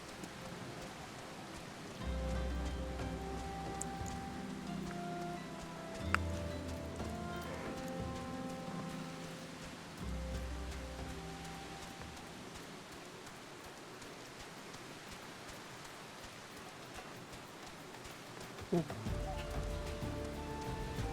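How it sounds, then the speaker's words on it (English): Rain falls steadily in the Final Fantasy XIV game at Highbridge in Eastern Thanalan, a continuous hiss beneath game music and sound effects, with a person talking over part of it. "It's raining."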